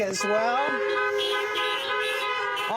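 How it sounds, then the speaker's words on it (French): Car horns honk repeatedly in a drive-in worship gathering, several overlapping tones blaring together as a loud chorus of toots, with voices mixed in under the horns. "Pour dire Amen dans la voiture, on klaxonne."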